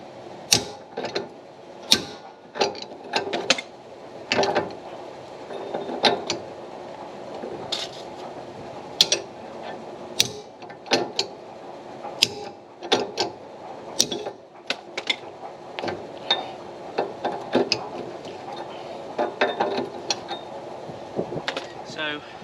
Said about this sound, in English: we can now put in the box spanner, and hopefully with a swift tap downwards we should be able to get this nut to start